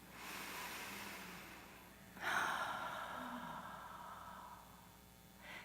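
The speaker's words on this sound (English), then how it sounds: "let's all take a breath together" A congregation at a church service taking a deep breath together, a soft collective inhale swelling then a long sighing exhale, faint and breathy against room hiss.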